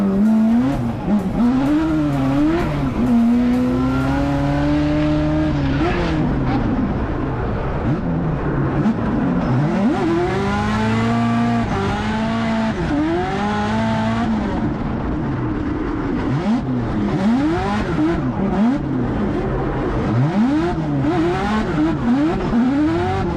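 A drag racing machine works a track in practice, its engine revving and shifting repeatedly in loud, close rising and falling whines with tire squeal, running continuously with no talk.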